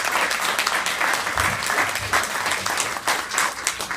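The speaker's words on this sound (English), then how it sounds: "Everybody give her a round of applause." Loud applause fills a meeting room, dense and steady clapping that swells slightly toward the end, heard alone with no one talking over it.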